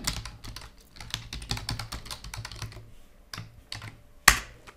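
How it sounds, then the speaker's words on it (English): Rapid, uneven keystrokes on a computer keyboard while a comment is typed into a tutorial screen, clicking steadily for several seconds before a brief pause and one sharper, louder key press near the end, with no talking. "then you can type in your comment here"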